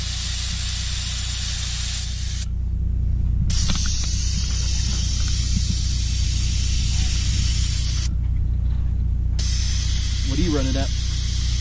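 Air rushes out of a tire valve with its core removed, a loud steady close hiss that briefly cuts out twice, with a faint voice near the end.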